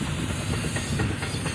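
Freight cars of a CSX I141 train roll past at close range, producing a continuous loud rumble with a steady hiss and faint rhythmic clicking of wheels over the rails.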